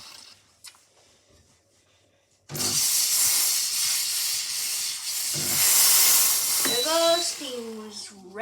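A Smith n Nobel coffee machine's steam wand lets out a loud, steady hiss of steam lasting several seconds, and a voice speaks briefly under it near the end.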